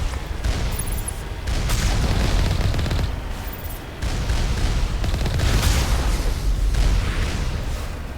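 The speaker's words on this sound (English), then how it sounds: "I hear more explosions." Booming explosions and crackling blasts fill a battle in the video game Mass Effect, a loud, dense, continuous barrage with short dips between rolling bursts.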